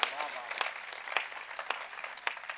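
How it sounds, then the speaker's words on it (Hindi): An audience at a Hindi poetry gathering (kavi sammelan) claps in loose bursts of applause at moderate distance, with uneven sharp peaks. "एक बार जोरदार ताली बजाइए"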